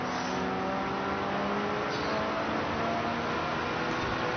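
GT4 race car in a road-legal setup, driven in a racing game, its engine droning steadily with a continuous hum and quick gear shifts, moderately loud and alone with no talk.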